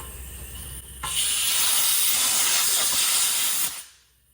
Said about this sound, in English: My drain cock's leaking.